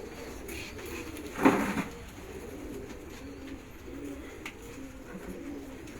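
Pigeons give a soft coo amid quiet background murmur, with one brief louder burst of sound early on.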